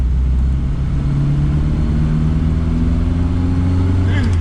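A small three-wheeler car engine hums and drones loudly from inside the cabin, its pitch rising steadily as it accelerates.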